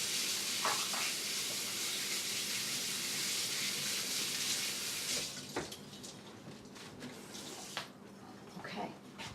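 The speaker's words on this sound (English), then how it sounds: "now, rinse off my whisk." Water runs steadily from a kitchen tap as a whisk is rinsed, a loud even rush for about five seconds that cuts off, followed by quieter clinks and handling sounds nearby.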